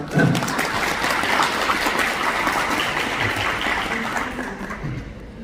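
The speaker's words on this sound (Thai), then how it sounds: "ปรบมือด้วยนะครับ" An audience applauds at a chamber of commerce presidential election in Roi Et, a thick, continuous wash of many clapping hands that stays loud for several seconds before easing slightly at the end.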